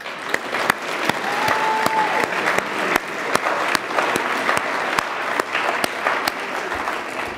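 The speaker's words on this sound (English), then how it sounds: "I invite you, yourself, to give yourself a round of applause for all that you do." Sustained audience applause fills a high school fine arts festival concert hall, a dense, steady wash of many hands clapping at moderate loudness throughout, with a few sharper individual claps standing out.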